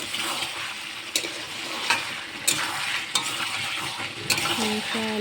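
Meat and potatoes stir-fried in oil in a pan, a steady close sizzle with scraping stirs of a utensil every second or so, no voices.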